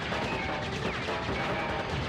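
Boss cannons fire in Crash Bandicoot 3: Warped, a dense continuous barrage of booming, crackling blasts that fills the whole moment without pause.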